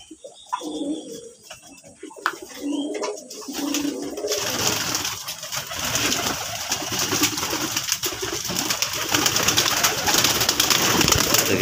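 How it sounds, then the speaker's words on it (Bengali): Pigeons coo in a home pigeon loft, soft throaty calls coming up close at first, then partly buried under a steady rushing noise like a fan running in the loft. "কবুতরগুলি দেখেন।"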